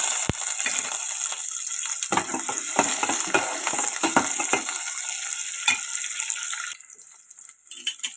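Onions sizzle in hot oil for a broad bean and tomato curry, a steady close crackling fry with a few stirring scrapes, then quieter near the end.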